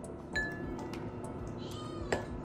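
A three-month-old kitten gives a few short, faint meows at home over a low steady background, with no talk during the cries.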